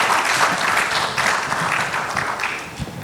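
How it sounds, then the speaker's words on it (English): Audience applause at an AI technology summit, a dense, steady wash of clapping from a sizeable crowd that stays at an even level for the full stretch. "I think a big round of applause to."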